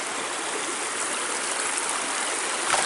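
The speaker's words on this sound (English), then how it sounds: "Cross the creek again." A creek flows along a hiking trail at Pixley Falls State Park, giving a broad, steady rushing wash that continues unbroken, close and fairly loud, with no one speaking.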